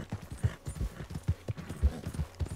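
Horse hooves clopping in Red Dead Redemption 2, a steady uneven run of heavy, close thuds with no talk over them.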